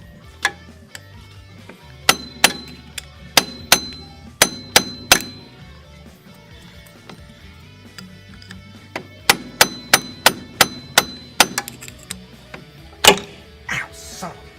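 Sharp metallic hammer blows strike a Dodge transmission to break it loose, coming in rapid bursts of four to six ringing hits separated by short pauses, close and clear.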